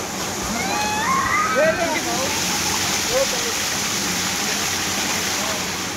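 Family members playing in water at Malshej Ghat, a continuous rushing, sloshing wash of water with occasional splashes, faint voices and shouts mixed in throughout.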